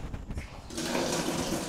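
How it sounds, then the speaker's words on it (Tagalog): A campsite toilet with a strong water flush, heard as a sudden loud rush of water that starts midway and keeps gushing steadily. "Magana yung flush, idol."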